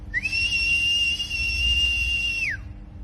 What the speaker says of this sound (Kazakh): көзіңе тегенше ысқырдық қой, а?